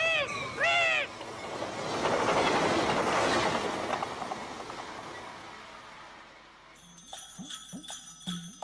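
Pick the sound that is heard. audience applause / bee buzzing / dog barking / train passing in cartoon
train passing in cartoon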